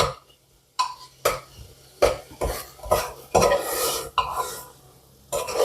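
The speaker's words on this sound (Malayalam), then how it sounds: "ഒന്ന് ചെറുതായിട്ട് ഇളക്കി ഒരു 5 മിനിറ്റ് ഇളക്കണം" A spoon stirs food in a cooking pot with a series of close scraping and clanking strokes, about one every half second to a second, with short pauses between them.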